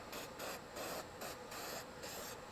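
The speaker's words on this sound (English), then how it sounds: "I'm going to take black spray paint, and we are going to put a coat of black paint" Black spray paint hisses from an aerosol can onto gasket material stapled down for a Toro Recycler 22-inch mower camshaft job. Quiet, close bursts repeat in an even rhythm of short sprays, with no talking.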